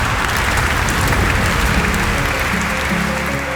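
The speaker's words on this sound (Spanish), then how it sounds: "luego un aplauso cerrado se multiplicó por toda la sala" Sustained applause fills the Manuel Galich auditorium in Havana. A large crowd claps in a dense, even roar that holds steady throughout, with faint tonal sound underneath toward the end.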